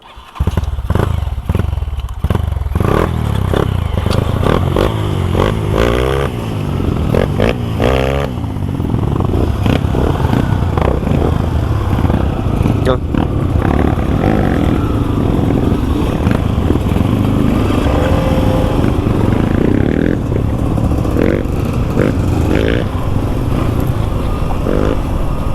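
A Suzuki V-Strom 250 SX motorcycle rides offroad with a steady, loud engine drone throughout, rising and falling with throttle, while thumps, clatter and scraping from rough terrain sound close by.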